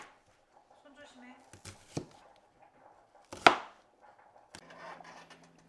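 A knife chops shallots on a cutting board in a few separate, sharp thuds with quiet gaps between them, and a voice talks briefly nearby.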